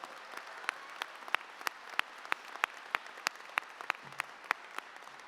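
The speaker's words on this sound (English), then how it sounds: "Can we give them all a round of applause" Sparse, evenly spaced claps ring out in a hall at a December commencement ceremony for the singers, single sharp hand claps recurring about three times a second, fairly distant and without voices.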